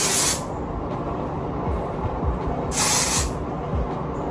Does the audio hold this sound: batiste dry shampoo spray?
yes